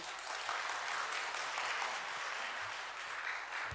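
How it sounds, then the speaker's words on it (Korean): Warm, steady applause from a church congregation at a revival meeting, dense and sustained throughout with no speech over it. "박수 한번 주시죠."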